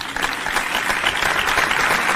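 Dense, steady applause from a concert audience at a ghazal performance, a continuous wash of many hands clapping at even loudness throughout, with no voices over it.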